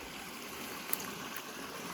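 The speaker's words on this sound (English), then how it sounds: "here would be the waterfall" A waterfall stream on a rural nature walk, a soft, steady broadband rush of flowing water heard faintly at a distance with no other sounds.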